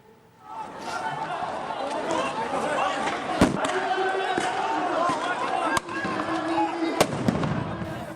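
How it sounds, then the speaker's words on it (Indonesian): Stun grenades detonate during an Israeli police raid on worshippers at Al-Aqsa Mosque, with three sharp, loud bangs cutting through continuous crowd shouting and commotion. "Polisi Israel menyerang jemaah yang sedang sholat tarawih dengan menggunakan granat kejut dan peluru karet"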